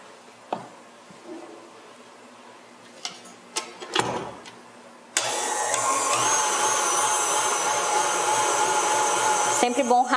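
A few faint clicks and knocks give way to an electric mixer beating cake batter for a rolled cake, which starts abruptly and whirs loudly and steadily for about five seconds before stopping.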